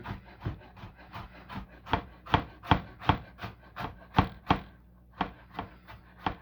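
A knife chops Roma tomato and avocado on a cutting board in a home kitchen, with a steady rhythm of about fifteen crisp, close taps and a brief pause before the chopping resumes.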